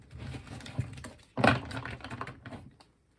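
Tarot cards being shuffled by hand, a close soft clattering and riffling in short bursts with a louder flurry midway, fading to quiet at the end.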